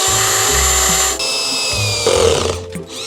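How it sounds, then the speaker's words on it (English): Power drill boring into metal building framing, a short loud whining run that shifts pitch partway through, alone without talk. "Since I'm drilling in metal,"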